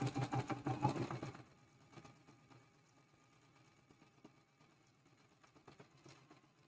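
A sewing machine stitches a quilt-block seam on log cabin fabric pieces, a quick, steady mechanical whir loud for the first second and a half, then stopping to faint handling noise.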